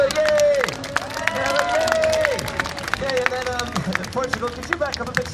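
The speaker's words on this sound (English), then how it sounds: "everybody, a little bit of clapping and cheering" A street performance audience in London claps and cheers, with scattered claps and a crowd murmur under a performer's loud voice.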